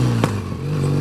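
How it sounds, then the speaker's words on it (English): A classic motorcycle on a run down Loch Ness gives a single sharp backfire pop, close and loud, over a steady low engine drone. "Ooh, backfire."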